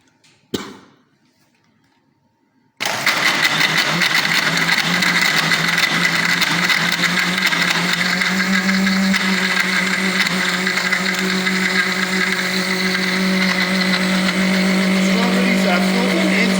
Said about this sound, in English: Now we are going to grind it in the machine.